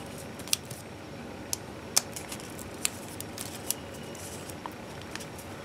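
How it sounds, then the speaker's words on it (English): Origami paper is folded and flattened for a lily kusudama flower ball, giving quiet sparse crinkles and several sharp crisp creasing snaps spread over a hushed background. "So fold it up and flatten."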